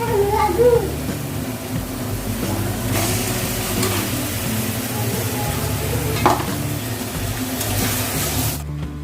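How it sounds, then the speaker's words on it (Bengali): Marinated chicken hits hot frying masala for a chicken curry, giving a steady close sizzle and stirring clatter throughout, with a brief louder burst near the middle and background music underneath. "মশলাটা একটু ভাজা ভাজা হয়ে গেছে, এবার এই ম্যারিনেট করা চিকেনটা আমি দিয়ে দেবো।"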